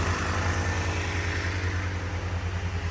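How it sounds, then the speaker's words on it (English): A 1987 Jeep Grand Wagoneer's 360 V8 idles steadily and smoothly up close, a constant low rumble with a faint even pulse and no knocks. "At 360 V8, running like a sewing machine, sounds good."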